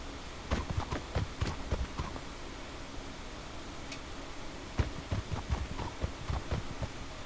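Horse hooves in Mortal Online, a Mongol or desert horse, clip-clopping in quick, uneven clusters of soft thuds, fairly faint over a steady background hum.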